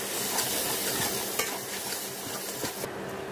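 Wood apple pickle with chaat masala being stirred in a pan over a medium-low flame, a close steady sizzle with repeated scraping strokes of a spoon and no talking.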